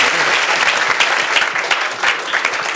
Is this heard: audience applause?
yes